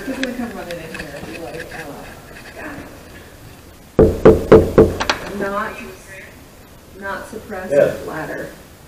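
Knocks sound on a door during a paranormal investigation at Malvern Manor, four sharp close raps in quick succession midway, with quiet talk before and after.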